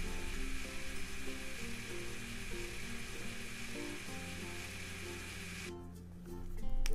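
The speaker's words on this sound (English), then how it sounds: "it will start blending because it is a valid recipe in the book here" Blender whirring as it mixes a drink of two apples and four melons in the Minecraft furniture mod, a steady dense buzzing drone that runs throughout and swells louder near the end.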